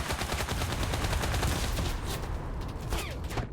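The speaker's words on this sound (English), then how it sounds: "It's the one thing I love about the Italian submachine gun, it's very stable." Italian submachine gun firing in the World War II shooter game Enlisted: rapid, loud bursts of automatic fire, close and sustained, with distant gunshots mixed in.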